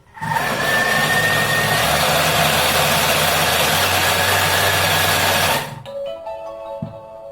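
A kitchen mixer whirs loudly at top speed 10 through chocolate and almond cake batter for about five seconds, a steady motor drone that cuts off abruptly, leaving faint clinks and quiet room sounds.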